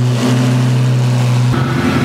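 A Lamborghini engine revs loud and close, a steady deep growl that shifts pitch partway through as the throttle changes, with no talking over it.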